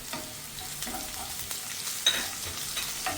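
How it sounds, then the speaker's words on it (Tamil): Small shallots and ground garlic sizzle in oil while being stirred, a steady frying hiss broken by a few scraping spoon strokes and one sharp clink, with no talking. "இது பாருங்க, நம்மளோட சின்ன வெங்காயம் பூண்டெல்லாம் நல்லா வணங்கி வந்துடுச்சு"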